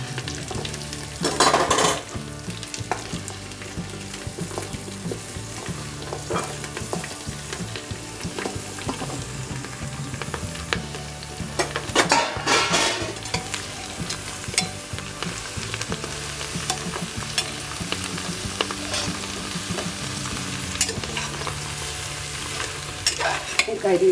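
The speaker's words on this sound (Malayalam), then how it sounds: "കരിവേപ്പിലയുടെ കൂടെ കഷ്ണങ്ങളെല്ലാം നല്ലപോലെ ഒന്ന് യോജിപ്പിച്ചെടുക്കണം" Vegetable pieces for avial are stir-fried with curry leaves in a pan, with steady sizzling and frying broken by repeated scraping stirs of a spoon, close and continuous.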